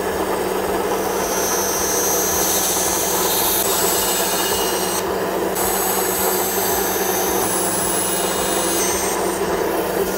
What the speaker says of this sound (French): On va détourer tout ça. À la scie sauteuse.